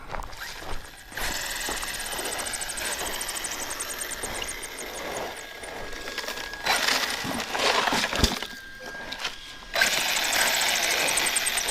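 An Arrma Kraton 6S RC car runs with a rock caught under one of its CV axles, giving a continuous whining, grinding mechanical noise that surges and dips in intensity, fairly close and loud, with no talking.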